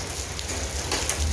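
A sudden hailstorm pelts garden plants, including a calamansi tree, as a steady dense patter of falling ice and rain, close and even, with no voices.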